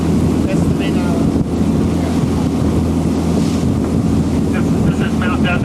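Sailboat moving past Mount Desert Island off Maine in October, heard as loud continuous wind buffeting the microphone over the wash of water against the hull, with no one speaking.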